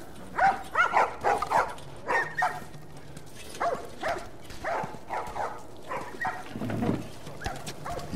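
Dogs in The Last of Us bark in repeated bursts, several sharp woofs close together, then a pause and a few more barks with a lower growl near the end, heard over a faint ambient background.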